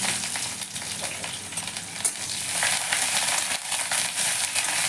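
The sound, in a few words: onion frying in oil with black cumin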